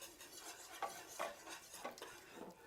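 A spoon stirring a milk, sugar and vanilla mixture in a bowl, soft quiet swishing with a few light scrapes and clinks of the utensil against the side, heard alone at low volume.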